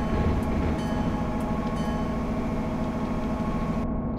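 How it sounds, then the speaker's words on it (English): A Metro North FL9 diesel locomotive runs in Train Simulator, its engine a steady, loud, continuous low rumble with a faint hiss on top that cuts off abruptly at the end. "So we got the diesel started"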